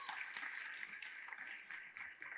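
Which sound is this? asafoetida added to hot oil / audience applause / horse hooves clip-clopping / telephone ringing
audience applause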